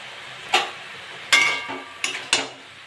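Sada shak greens frying in oil with turmeric and salt, stirred in a pan: four distinct scraping clinks of a utensil against the metal at irregular intervals, a faint sizzle underneath, no talking.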